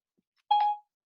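A Siri voice assistant activation chime: one short, clean electronic tone with a bright overtone, lasting about a third of a second, sounding alone in a quiet room.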